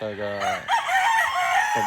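A rooster among breeding gamefowl crows once, close and loud, its stepped call rising and then trailing off into a raspy finish.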